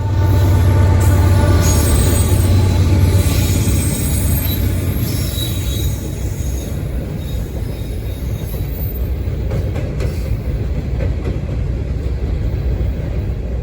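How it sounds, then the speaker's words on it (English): A grain train rolls steadily past on the line, a loud continuous rumble with high wheel squeal and clatter that holds throughout without pause. "a grain train was headed in the opposite direction"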